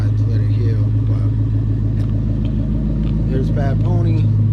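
A car engine idles in a steady low rumble, close and continuous, while people talk over it.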